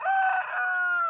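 A rooster crows once in a farmyard, a loud, close, sustained call with strong harmonic tones, heard alone without talk.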